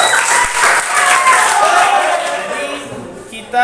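A classroom of ninth-grade students claps steadily for a few seconds, a fairly loud wash of applause that tapers slightly toward the end.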